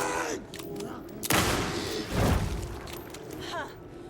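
Gunfire in the horror video game Alan Wake 2: a couple of loud, booming shots with a sharp burst and rumbling tail, set against a dense, noisy game ambience.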